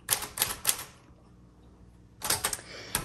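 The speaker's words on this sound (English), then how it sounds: "the clicking noises aren't as loud as you would expect. It has kind of that muffled sound" A 1938 Corona Sterling typewriter being typed on, bursts of muffled, soft clicking keystrokes in two short clusters separated by a quiet pause, close and without talk.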